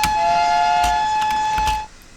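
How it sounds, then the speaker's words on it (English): Whistle from a Victory Works 14xx steam locomotive in Train Simulator 2015, a single sustained shrill blast lasting almost two seconds before it cuts off, heard fairly close and alone. "the spacebar powers your normal whistle, and if you hold Control on spacebar, you get your low-pitched whistles"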